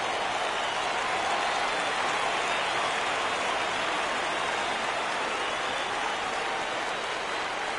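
A baseball crowd in MLB The Show 17 roars steadily for a full 3-2 count late in the game, a dense, continuous wash of cheering that stays loud for several seconds without any break.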